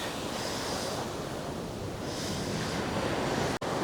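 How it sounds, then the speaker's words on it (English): Waves break on a rocky beach in Bali, a continuous close surf roar with two gentle swells of foamy hiss and wind buffeting the microphone, then a brief dropout near the end; no speech. "It's just a really, really beautiful beach."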